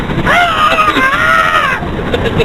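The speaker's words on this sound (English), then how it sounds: "Demonstrate again the screaming." A person gives a loud, sustained scream with a wavering pitch, up close against a windy, noisy background.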